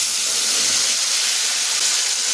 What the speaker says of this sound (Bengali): এখন টমেটোটা একটু ভেজে নেব যতক্ষণ না টমেটোর কাঁচা গন্ধটা যায়